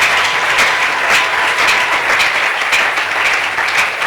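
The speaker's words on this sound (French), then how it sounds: "Acclamons pour le Seigneur Jésus-Christ." A congregation at a Sunday church service breaks into loud, sustained applause, dense and even clapping from many hands filling the room for several seconds without letup.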